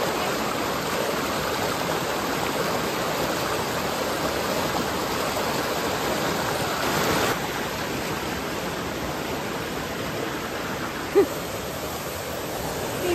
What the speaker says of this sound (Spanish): Miren qué bonito se ve el arroyo.